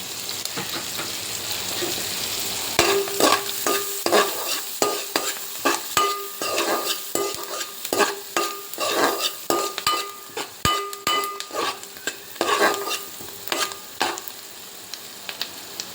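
Food frying in butter in a pan: a steady hiss gives way to busy, rhythmic stirring with repeated spatula scrapes and metallic clinks against the pan, close and lively, no one speaking.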